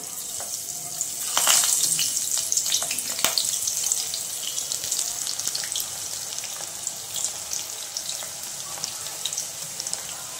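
Okra pakoda frying in hot oil, Andhra style, a bright crackling sizzle that swells as the pieces go in and then settles into a steady bubbling hiss, with no talk.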